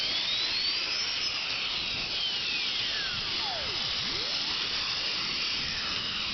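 A Moore No. 3 jig grinder running its 40,000 RPM grinding head, a steady high-pitched whine with sweeping tones rising and falling as the speed shifts, continuous and close, no talking.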